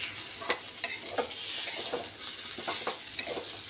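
Spice paste with melting tomato frying in a pan, with a soft continuous sizzle and repeated scraping strokes of a spatula, plus a few sharp metallic clinks, no talk.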